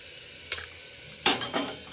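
Mutton stew in a pan gets a few brief stirs, short scraping strokes over a soft background sizzle, close and fairly quiet, with no talking.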